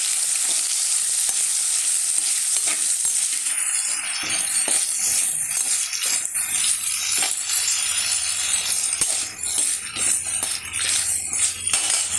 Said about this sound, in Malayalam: ഇതിലേക്ക് നമുക്ക് അഞ്ചാറ് ചെറിയ ഉള്ളിയും കൂടി വഴറ്റി കൊടുക്കാം